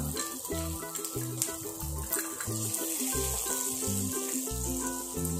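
Five or six chopped garlic cloves drop into hot oil and sizzle with a steady, hissing crackle. A repeating musical bass pattern plays underneath, and the frying stays fairly quiet and continuous throughout.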